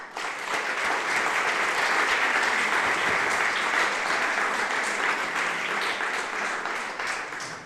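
Sustained audience applause for a tamburica band from the Korovci tourist society, dense and steady throughout, full crowd clapping close and even with no voices.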